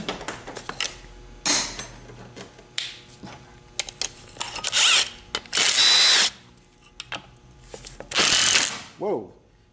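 Several whirring bursts of a power drill, starting and stopping irregularly, interspersed with clicks and handling noises, while working on a 4R70W/4R75 transmission's overdrive servo.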